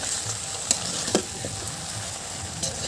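Potatoes and cabbage frying in a pan for Bengali aloo'r dum, a steady close sizzle broken by a few sharp scrapes and clinks of a spoon stirring through, with no talking.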